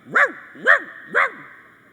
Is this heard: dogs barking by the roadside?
yes